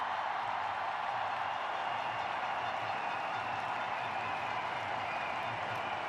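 An Indian cricket crowd at a Perth Test applauds and cheers a Virat Kohli century, a steady distant wash of clapping and crowd roar with no distinct peaks.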